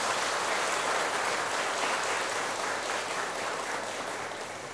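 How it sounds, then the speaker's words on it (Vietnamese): A large gathering of monks, nuns, teachers and Buddhist faithful at a Vietnamese temple ceremony honoring teachers breaks into sustained, dense applause that tapers off gradually, with no talking over it. "Chúng ta hãy dâng cao tràng vỗ tay thật lớn để ca ngợi chung."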